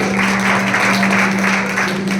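A church congregation claps together in a steady, fairly loud burst of applause with no talking over it.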